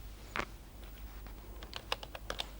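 Someone types on a computer keyboard nearby, a scattered run of quiet key clicks with a small cluster of quicker taps toward the end.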